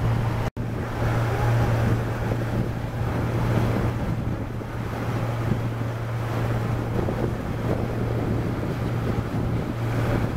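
Motorboat running on open water toward a river mouth off the Bulgarian coast, a steady low engine drone with wind buffeting and water rush throughout, near and continuous, with no talk.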